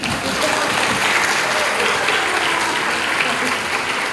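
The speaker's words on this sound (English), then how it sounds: "So if you're happy and you know it," Dense, even hand clapping from an audience at a medical college panel discussion, a continuous loud wash of applause with no pauses for the whole stretch.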